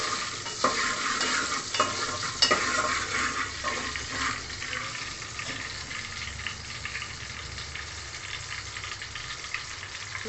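Dried red chillies, cumin seeds and curry leaves frying in hot oil for a tempering, a crackling sizzle with scraping stirs, loudest at first and settling into a softer steady fry.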